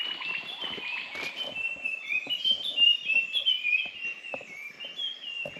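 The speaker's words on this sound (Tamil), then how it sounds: "சவுண்டு சூப்பராக போடுது என்ன பறவைன்னு தெரில" An unidentified bird sings in a hilltop forest, clear whistled notes and chirps repeating close by over quiet surroundings.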